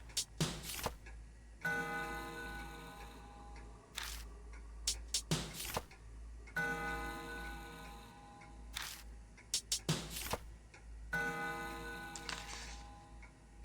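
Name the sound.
clock ticking in the video game Spirit Hunter: NG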